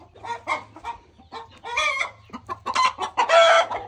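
Lavender Ameraucana hens in a grow-out pen give off bursts of close clucking and squawking calls, irregular and overlapping, with a faint steady hum underneath.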